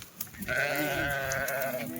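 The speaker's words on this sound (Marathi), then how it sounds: "हो तो बघा मित्रांनो मेंढी बघा मित्रांनो मेंढी" Sheep from a Kathiawadi flock arriving by vehicle bleat loudly and continuously, a long wavering cry from nearby that carries on for well over a second.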